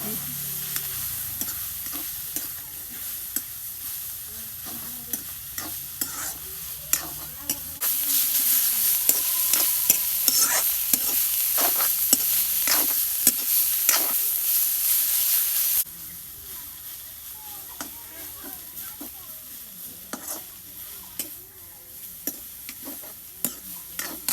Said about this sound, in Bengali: শাক ভাজা হয়ে গেছে এখন আমি নামিয়ে নেব